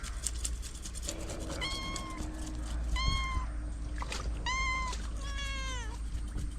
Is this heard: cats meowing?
yes